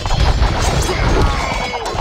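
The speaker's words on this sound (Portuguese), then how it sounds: "consegui o meu objetivo, que é quebrar as trebuchês" A trebuchet being smashed apart in Age of Empires 2, a dense, loud crash of breaking wood and impacts that keeps rumbling for about two seconds with no pause.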